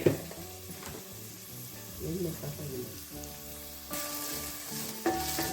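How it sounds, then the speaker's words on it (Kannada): Oil sizzles steadily as onions fry in a pan with grated coconut for a tempering, with a continuous crackling hiss that swells briefly near the end. No voices. "ಒಗ್ಗರಣೆ ರೆಡಿ ಮಾಡ್ಕೊಳ್ತಾ ಇದ್ದೀವಿ"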